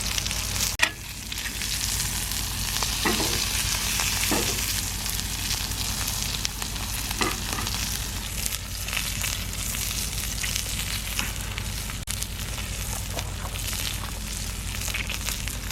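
Ribeye steak frying in bacon grease in a pan over an outdoor campfire, a steady loud sizzle and crackle running throughout with occasional sharper pops, and no talking.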